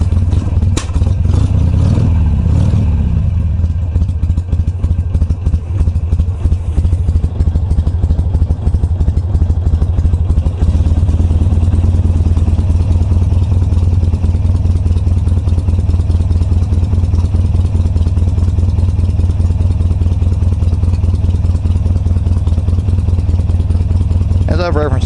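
An 2005 Harley-Davidson Sportster 883 Low with a carbureted engine idling close by, a loud steady low rumble with a brief rev at the start, while someone talks over it.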